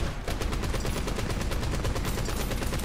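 Sustained automatic gunfire from War Thunder tank combat, a dense rapid stream of shots that stays loud and steady throughout with no pauses.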